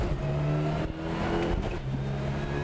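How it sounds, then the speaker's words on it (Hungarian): Rally car engine at full throttle climbing uphill, a steady loud rev with a brief dip midway before pulling on, heard alone. "gyorsan, nagy gázzal megyünk fölfelé"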